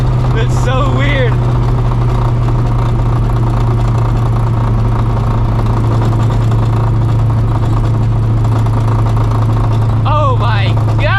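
Low-RPM rattling chatter from a Procharged New Edge Ford Mustang GT engine, a steady loud drone under talking voices, with brief rising whines near the start and end.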